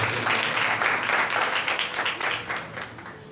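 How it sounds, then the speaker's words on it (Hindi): Audience applause at a church sermon, a steady wash of many hands clapping at moderate loudness throughout, easing slightly toward the end with no talk over it. "जोरदार तालियां खुदा उनके लिए बजा रहे हैं।"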